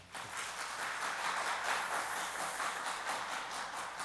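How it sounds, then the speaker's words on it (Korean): Church congregation applauding in a worship hall, a dense steady wash of many hands clapping at once, even and sustained without talk, heard from slightly back in the room. "격려 박수 한번."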